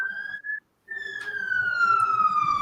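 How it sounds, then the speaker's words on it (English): A fire engine siren wails in a steady, slowly falling tone, cuts out briefly, then returns and holds at a moderate, fairly close level. "don't worry about the sirens, everybody, because he does live near to the fire station"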